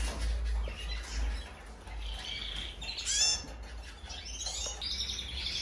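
Small pet birds chirp and tweet in a breeder's aviary, where birds are being picked out for a contest. The calls come in quick, bright bursts over a steady low rumble of background noise.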